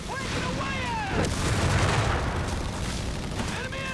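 Tank gunfire in Company of Heroes 3 blasts a spread-out squad of grenadier infantry, with a loud booming shot followed by a rumbling blast and scattered combat noise filling the whole clip.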